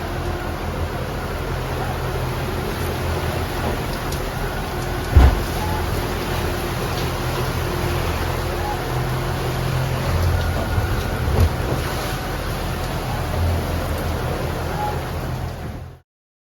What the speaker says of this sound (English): Big squall, yeah, bucketing down.